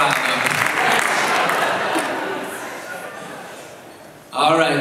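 Crowd cheering and applauding at a 2012 political forum in Portland's Bagdad Theater, a sustained broad roar of clapping and shouts that slowly fades, then swells again abruptly near the end.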